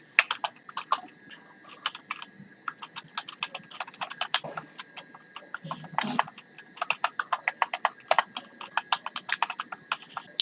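Rapid, close clicking of keys on a computer keyboard, typed in quick irregular bursts with brief pauses, with no talk over it.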